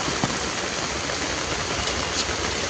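Heavy Mumbai rain pours onto a street at night, a steady, dense wash of hissing water that stays even and close throughout.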